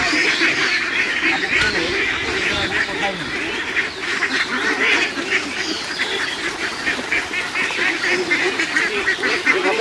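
A flock of ducks quacks and honks loudly and without a break while feeding on washed snails from a tub, with constant noisy splashing and dabbling and a voice talking over it.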